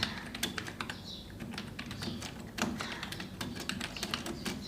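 Fingers type steadily on a computer keyboard, entering text into a box in a page-layout program, producing close, quiet, irregular key clicks in quick bursts with a brief pause midway and no talk.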